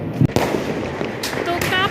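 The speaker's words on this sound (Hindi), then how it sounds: "चारों तरफ से पटाखे फट रहे हैं देखिए" Diwali firecrackers burst all around, with sharp loud cracks near the start and more bangs and crackling scattered farther off, while a person talks over the noise.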